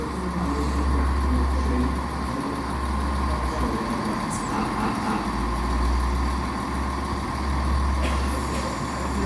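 A train at Newport station in South Wales produces a loud, steady low engine rumble close by, with a faint hiss of brakes and platform noise over it and no talking.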